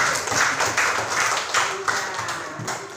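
A classroom of people claps steadily together for a student group after its presentation, a dense patter of hand claps, fairly close and lively.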